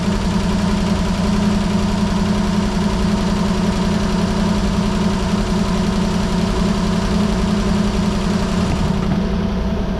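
A 1933 three-window coupe engine fed by two carburetors idles loud and close, a steady rumbling drone with even pulsing that holds throughout.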